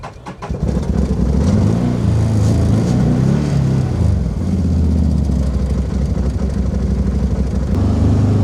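A vehicle engine cranks and catches at an off-grid camp road, then settles into a steady, close-up running rumble that continues unbroken.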